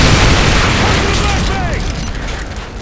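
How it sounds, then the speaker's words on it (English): A flashbang grenade goes off in Modern Warfare 3: a loud, close blast of broadband noise that holds for nearly three seconds, fading slightly toward the end. "flashbang!"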